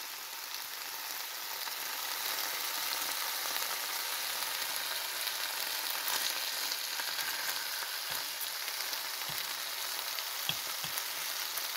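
Bacon fries in a pan with a dense, steady hiss of sizzling fat, interrupted by a few faint pops and crackles, close and continuous without any voices.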